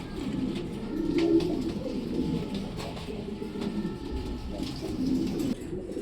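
A pair of grey bar pigeons coo softly and repeatedly at close range, low throaty calls over a quiet background hum.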